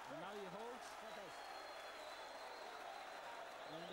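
Crowd noise at a professional boxing bout, Xolisani Ndongeni vs Godfrey Nzimande: a steady roar of cheering and applause fills the whole stretch, with a commentator's voice talking over the start.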